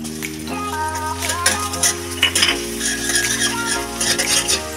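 A spoonful of garlic cooks in melted butter in a pan. A light sizzle and repeated clinking, scraping stirs of a utensil sit under continuous background music.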